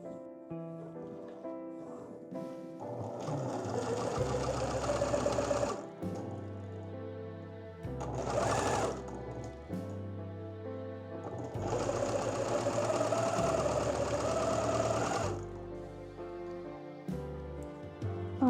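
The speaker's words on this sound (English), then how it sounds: "So I'm just going to turn this inside out and sew it up to the dimensions that I want." A sewing machine stitches up the seam of a shirt turned inside out, running in two long bursts of rapid mechanical whirring with a short pause and a brief rattle between them.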